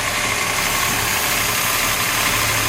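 A big block engine swapped into a dually pickup truck idles steadily, a loud, close, rough rumble with a constant mechanical clatter and no speech.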